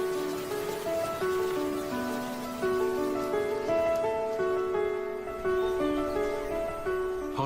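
Heavy rain falls in a Sri Lankan rainforest as a steady, even wash of drops, heard under a sustained melodic musical score that plays throughout.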